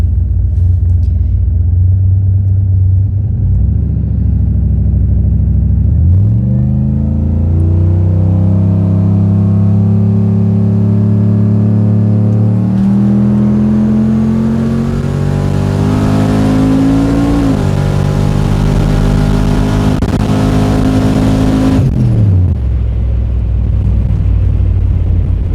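A Holley-equipped street car makes a hard drag launch: a rumbling idle gives way to a loud, rising engine roar that climbs through the gears for several seconds, then cuts off and drops back to a close, steady idle.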